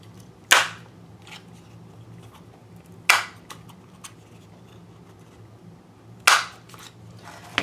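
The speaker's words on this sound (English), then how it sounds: "I'm going to grab my Zutter. This is the Round It All. And I'm going to go around the corners" A Zutter Round It All corner rounder punches the corners of a box in three sharp, crisp clacks spaced a few seconds apart. Faint handling noise fills the gaps, and there is no talking.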